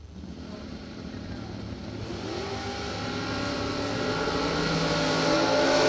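At a SuperBucks Showdown bracket drag race, a Dorkar dragster and its opponent launch down the strip. Engine roar builds steadily and grows louder over several seconds, with no voices.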